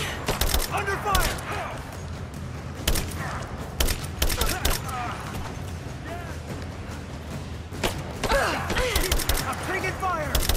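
Bursts of gunfire crackle in the Rise of the Tomb Raider video game, heavy and close, with shouted combat voices over the shooting.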